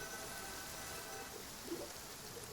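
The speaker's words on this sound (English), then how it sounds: "Is it raining? Oh, it is." Steady rain falls in the video game Genshin Impact, a soft even hiss of drops on surfaces that holds throughout at moderate level, with no voices over it.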